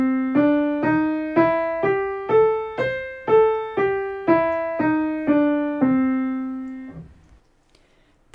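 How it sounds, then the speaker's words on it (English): A major blues scale played note by note on a sustained electronic-sounding keyboard tone, twelve evenly spaced notes rising then descending, each with a sharp attack and decay, clean and alone. "we can rotate the minor blues scale to start on another note, creating the major blues scale."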